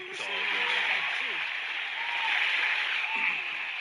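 Sustained crowd applause from a video game broadcast, a steady wash of clapping held at an even level throughout, with a voice talking over the start and again near the end.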